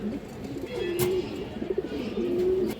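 A pair of pigeons, a male and a female, coo in low, rolling calls close by, with a few soft taps and rustles between the coos.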